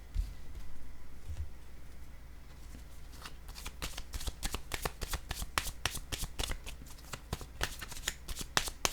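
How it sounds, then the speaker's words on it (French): Tarot cards riffled and shuffled by hand, quiet at first, then a rapid run of crisp flicking snaps, close and soft-spoken in level, with no talking. "Je vais piger une autre carte"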